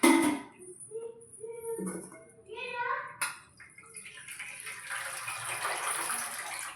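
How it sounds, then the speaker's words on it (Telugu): Water poured into a pot of tangy fish curry in a home kitchen, a gushing, splashing pour that rises and falls, with voices talking alongside. "కొంచెం నీళ్ళు కూడా వేస్తున్నాను"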